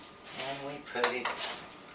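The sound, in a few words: glass canning jar put into a pot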